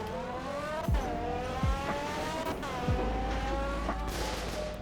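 A Roblox race car laps a track with a steady engine drone, repeatedly downshifting and revving up again in several sweeping pitch drops, occasional tire squeal, and no talking.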